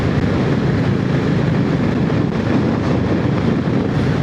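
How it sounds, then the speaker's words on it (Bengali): Steady roaring wind buffeting the inside of a motorcyclist's helmet on a city flyover, a dense continuous low rumble and rush, close and unbroken with no talk. "আমি জাস্ট হেলমেটে ভেতরে আমি জাস্ট হাওয়ার আওয়াজ পাচ্ছি"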